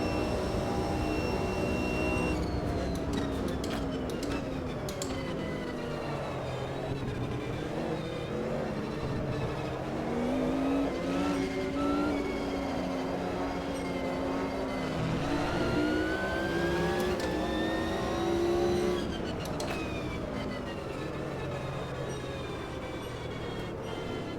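A race car engine drives a lap of the Spa circuit in the Automobilista 2 racing game, steady engine drone rising and falling in pitch through gear changes and acceleration, with no talking.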